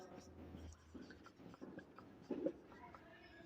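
A pen writes on paper during a maths lesson on circles, faint scratching strokes under quiet background noise and low speech-like murmur.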